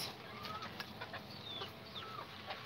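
Chickens in an outdoor chicken coop give a few faint, scattered clucks and short squawks over a steady background hum, with no one speaking.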